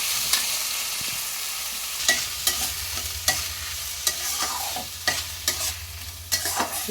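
Washed rice and lentils are stirred through hot tempering in a pan for khichuri, with rhythmic spoon scrapes and taps over a continuous sizzle and no voices.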